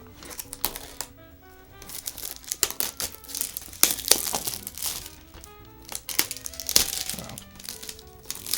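Plastic shrink-wrap seal being peeled and torn off a movie case, close-up crinkling and crackling in irregular bursts, with a short spoken exclamation partway through.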